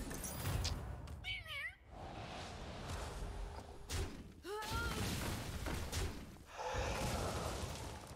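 Cartoonish cat meows from the Hearthstone Battlegrounds card game, several distinct mewing calls over busy game sound effects with thumps and crashes.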